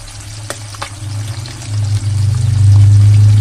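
Hilsa fish frying in mustard oil for shorshe ilish, a loud, continuous bubbling sizzle that builds steadily and stays strong to the end, with no voices.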